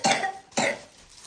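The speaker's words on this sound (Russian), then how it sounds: "ты кашляешь" A young girl coughs twice at close range, two short raspy bursts about half a second apart, each fading out quickly.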